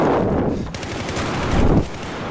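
An M416 assault rifle in Battlefield 4 fires loud, close bursts of rapid automatic shots, with a pause near the middle before another sustained burst that cuts off sharply near the end.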